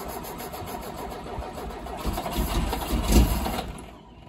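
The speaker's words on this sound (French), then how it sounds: "On va voir si ça démarre." Lada Niva engine cranking and catching, a steady close mechanical churn that swells near the end before fading, no clear speech over it.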